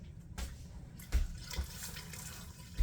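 Beef broth pours into thick chili in an Instant Pot, a soft liquid splashing and trickling stream broken by a few low gurgling thumps, close but quiet, with no talking.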